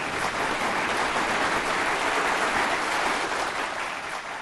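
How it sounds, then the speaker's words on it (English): Audience clapping at a memorial lecture event fills the space with dense, steady applause at an even loudness that eases slightly toward the end. "Please, a round of applause for them."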